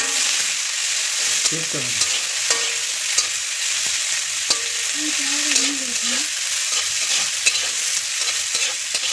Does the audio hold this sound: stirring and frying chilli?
yes